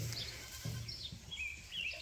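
Faint, distant goats bleat on an open pasture farm, a couple of low calls buried under steady wind-like outdoor noise.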